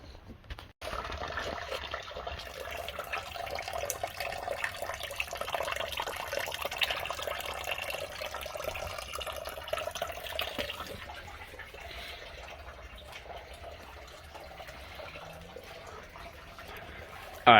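Coolant drains from a 230k-mile Saab 9-5 during a water pump replacement, a steady close pour rushing for about ten seconds before easing into a quieter, thinner trickle.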